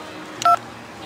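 A single short touch-tone telephone dialing beep, clear and close, against faint background hum.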